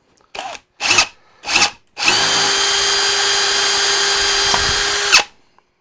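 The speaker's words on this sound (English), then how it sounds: "the idea is to drill through and remove the head of the screw so it can no longer hold whatever it was holding." A power drill boring out a screw head on an expensive camera lens: three brief bursts followed by one sustained whining run of about three seconds, close and loud, no voices.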